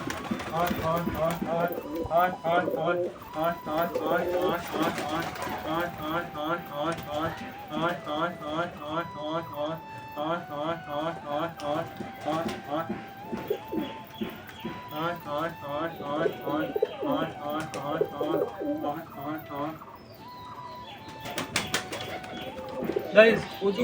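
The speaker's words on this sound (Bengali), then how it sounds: "আমার সবকটা পায়রাকে ধরার জন্য ওইখানে ডাকতে হবে" Pigeons in a loft coo in repeated rolling phrases close by, a busy overlapping chorus with soft flutters and scuffles, while a person talks over them at times.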